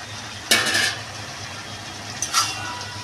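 Fried shrimp are dropped into a pan of cooking bottle gourd curry, making two quick splashing sizzles about two seconds apart over a quiet background.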